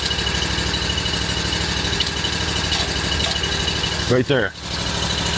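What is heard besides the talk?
Oscar 52 portable sawmill motor running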